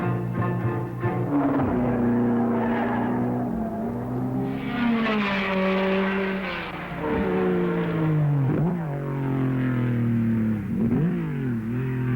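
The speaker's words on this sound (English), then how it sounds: "The other cars vying for the 4 open places were pushing hard." 1961 Formula One cars under the 1.5-litre formula racing hard on track, engines droning and revving continuously for the whole stretch, with pitch rising and dropping as cars pass and shift, loud and close with no talk.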